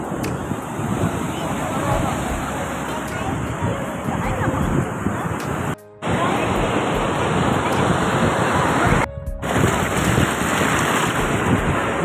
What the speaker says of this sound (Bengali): ওই ঢেউ এসছে, এই দেখো ওই ঢেউ এসছে।